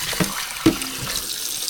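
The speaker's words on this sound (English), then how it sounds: "And then I rinse it again." Rice being rinsed in a small pot under a running kitchen tap, with a steady close hiss of water and a couple of soft splashes and clinks of grains and container.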